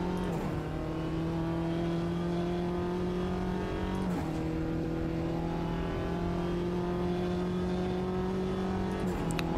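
A race car engine in the racing sim Automobilista 2 drones loudly and steadily, its pitch climbing in long sweeps, with a brief drop around four seconds as it shifts and winds up again, no talk over it.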